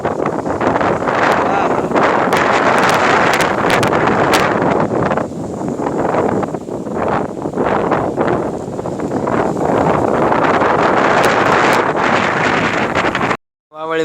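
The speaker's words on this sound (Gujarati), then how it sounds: "એટલો પવન આવે છે ને એની વાત જવા દો" Strong wind blowing before rain buffets the microphone in heavy, continuous gusts, loud and close. Brief voices can be heard underneath the roar.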